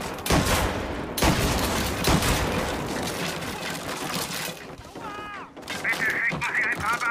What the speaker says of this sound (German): Es wurden vermehrt Schüsse gemeldet.